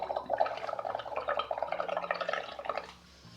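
Drips of coloured bubble solution fall and spatter in a quick, fairly steady run of small wet taps, close and moderately loud, fading out near the end.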